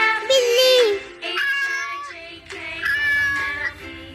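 A domestic cat meowing three times in drawn-out, tonal calls, close and fairly loud, with short pauses between them and no talking.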